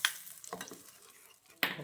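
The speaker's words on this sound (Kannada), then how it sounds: "ನಾನು ತುಪ್ಪದ ಒಗ್ಗರಣೆನ ರೆಡಿ ಮಾಡ್ಕೊಂಡಿದ್ದೆ, ಇದನ್ನು ಸಹ ಇದಕ್ಕೆ ಹಾಕ್ತಾ ಇದ್ದೇನೆ." Hot ghee tempering hits spinach gojju in a pot, producing a faint, brief hissing sizzle with soft stirring sounds and a second short burst near the end.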